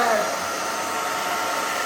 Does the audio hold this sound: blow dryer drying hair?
yes